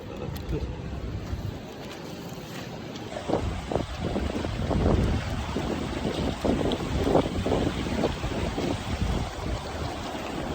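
Waves surge and wash along the Yeongdeok coastline as strong wind buffets the microphone, a steady roar of sea and gusts with no talking.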